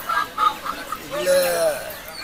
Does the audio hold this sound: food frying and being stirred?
no